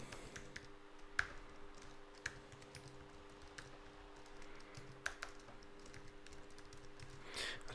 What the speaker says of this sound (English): So now I want to type in my app name.